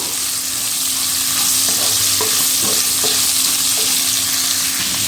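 Pieces of cut bitter gourd sauté in hot oil, a loud, continuous sizzle with a few soft scraping knocks of the stirring spoon, no voices.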